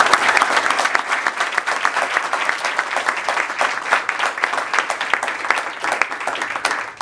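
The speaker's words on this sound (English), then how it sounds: "please join me in a round of applause for everybody that was involved in this legislation" Sustained applause from an audience at a legislative event with the Governor, dense and steady clapping that stays loud throughout and trails off only slightly toward the end.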